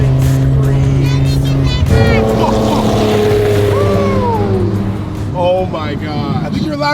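A loud supercar engine revs hard and close, its roar rising and falling in pitch while excited voices talk over it.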